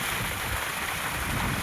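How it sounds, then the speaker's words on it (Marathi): Irrigation water pours into a field of bajra (pearl millet) on a farm, making a steady, close rushing wash with no voices. "हे पाणी चाललंय या."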